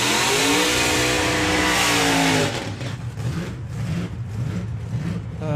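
A loud hot rod engine roars at high revs with a steady drone at Santa Pod Raceway drag racing, then drops into a rough, pulsing idle with repeated throttle blips.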